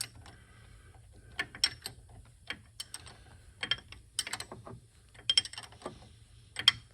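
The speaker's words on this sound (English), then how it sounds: "Finish getting this last bolt in this tail shaft while I'm right here." A ratchet wrench tightens the last bolt on a tail shaft in a scrap-built vehicle project, giving quiet bursts of rapid clicks spread over several seconds, fairly close and with no voices.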